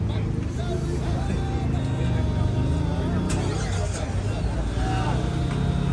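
A Mahindra Thar engine is started and runs at a steady close idle, with a sharp mechanical jolt partway through, while people talk over it.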